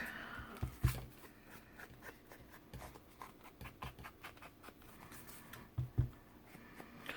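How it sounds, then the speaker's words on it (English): Pen nib scratching and scribbling across a paper music page as ink is added to a drawing, soft, close and continuous with a few sharper taps, no voices. "Trim up this music page. Give it some ink."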